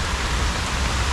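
Heavy rain pours during a thunderstorm on a river in Switzerland, a loud, dense broadband roar of drops hitting water and surfaces, continuous and close, with no talking.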